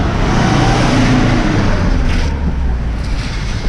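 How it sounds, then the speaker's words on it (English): A loud truck rumbles past on a road in the Balkans, a dense roar close by that holds steady, then eases off slightly as it moves away, with no voices over it. "oh, loud truck."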